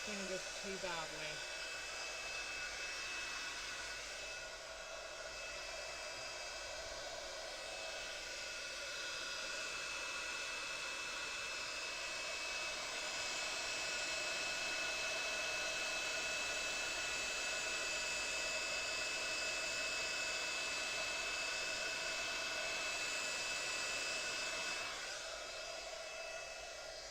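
A heat gun blows steadily at close range as it melts embossing powder on a card, a continuous whooshing hiss that holds at an even level for nearly half a minute without speech.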